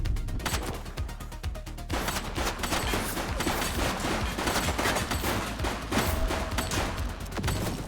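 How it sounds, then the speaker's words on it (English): Sustained gunfire from a fleeing suspect in The Precinct, a police video game, with dense rapid shots and bursts crackling continuously and loudly over a busy game soundtrack throughout. "Shots fired!"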